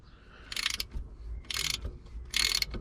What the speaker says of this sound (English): This nice new 1/2 inch Halfords ratchet.